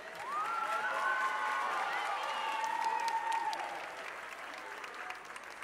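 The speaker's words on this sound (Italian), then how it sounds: "Un grande applauso!" An audience at an ice skating gala on a small rink in Covo, Bergamo, applauds loudly and steadily for several seconds, with scattered cheers and voices rising through the clapping.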